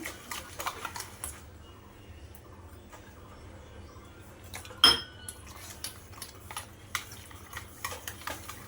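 Batter for pumpkin-flower fritters stirred with a little water in a bowl, giving soft scattered clinks and scrapes of utensil against the bowl at an irregular pace, with one sharper knock midway.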